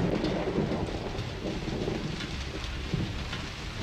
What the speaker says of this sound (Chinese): 上海地区遭遇了一场强台风过境，华东沿海风速达到22米每秒，并降下大暴雨